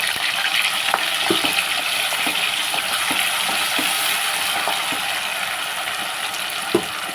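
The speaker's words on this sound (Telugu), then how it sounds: "ఆయిల్ పోసాను ఆయిల్ హీట్ ఎక్కుతుంది పచ్చిమిర్చి వేస్తున్నాను దీంట్లో ఈ టమాటా ఉల్లిపాయ పేస్ట్ కూడా మనం వేసేసుకున్నాం" Green chillies and tomato-onion paste fry in hot oil for a fish curry, giving a continuous loud sizzle with scattered small pops and clicks throughout.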